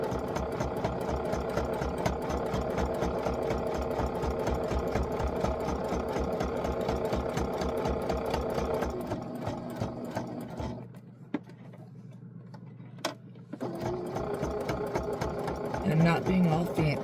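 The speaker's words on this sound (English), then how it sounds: "I'm going to go back to the sewing machine, and I'm going to sew around this outside edge." Sewing machine stitching around the outside edge of a scrappy fabric bookmark, a steady fast mechanical whir with rhythmic needle ticks that pauses briefly near the end, then resumes close up.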